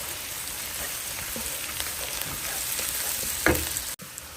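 Ginger and garlic sauté in a hot pan, giving a continuous even sizzle up close, with a soft stirring scrape just before a sudden cutoff near the end.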